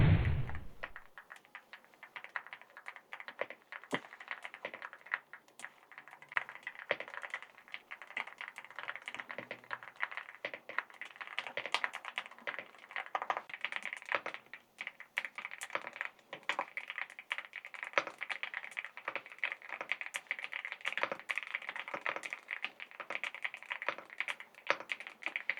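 Fast, steady typing on Aula F65 and F75 mechanical keyboards fitted with identical keycaps and switches, continuous close clacking keystrokes at a quiet level with no voices.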